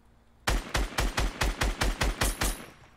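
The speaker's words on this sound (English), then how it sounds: "Someone shot me." Automatic gunfire in Fortnite on Nintendo Switch, a single burst of about nine evenly spaced, punchy shots fired close and loud, followed by quiet.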